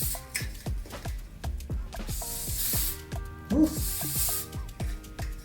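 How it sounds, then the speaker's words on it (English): Hairspray is sprayed onto a glueless frontal wig styled with barrel curls, giving a string of short, close pressurised hisses in a steady rhythm, with clicks from the nozzle. A voice briefly exclaims partway through. "Then we're gonna spray this, okay?"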